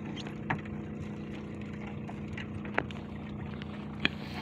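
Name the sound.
boat on water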